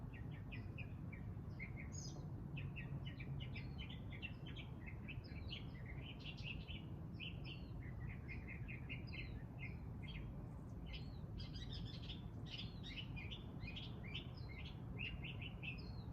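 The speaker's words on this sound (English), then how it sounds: "Love the sound of the birds." Small birds chirp and trill in quick repeated phrases, fairly faint against a low steady outdoor hum, continuing throughout with no talking.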